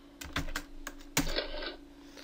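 Keystrokes on a computer keyboard while setting up Kivy for Python 3 on Windows: a short irregular run of crisp taps, then one sharper clack, close by with no speech.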